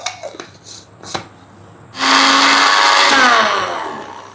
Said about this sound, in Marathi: आता हे आपण मिक्सरला फिरवून घेऊयात.